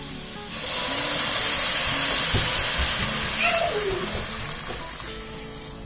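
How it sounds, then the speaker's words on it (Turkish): Half a glass of water is poured into a hot pan of quince dessert, setting off a loud, steady sizzling hiss that holds for about five seconds before easing slightly. "Şimdi son olarak yarım su bardağı şu şekilde suyumuzu ilave ediyorum"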